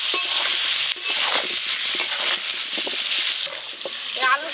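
Potatoes fry with salt and turmeric in a pan for a Bengali village dish, giving a loud, steady sizzle broken by stirring scrapes, with no talking.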